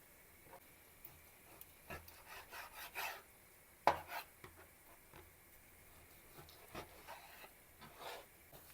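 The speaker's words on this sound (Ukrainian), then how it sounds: "Ось на такі шматочки нарізаю м'ясо." Repeated short scraping and chopping strokes of a knife working through meat on a board, irregular and close, with no talk.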